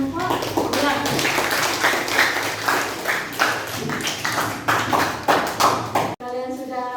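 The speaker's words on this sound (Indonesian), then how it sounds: "Kita beri aplaus untuk kelompok 2." A classroom gives group 2 a round of applause: many hands clap in a brisk, irregular patter, with children's voices mixed in, before it cuts off abruptly near the end.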